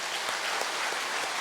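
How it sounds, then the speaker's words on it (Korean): A church congregation applauds during a Sunday worship service, a brief, dense, steady burst of many hands clapping together in a reverberant hall, without speech. "우리 큰 박수로 영광을 돌려드리십시오"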